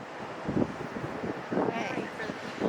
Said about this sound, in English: It's dark and windy.